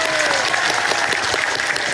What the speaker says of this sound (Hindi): जय महेश भट्ट जी के लिए जोरदार तालियां।